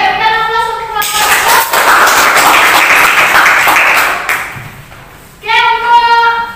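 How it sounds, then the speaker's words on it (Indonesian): A classroom group is applauded, with a dense burst of clapping from many hands filling the room for several seconds, then easing off before talk resumes. "berikan aplaus untuk kelompok"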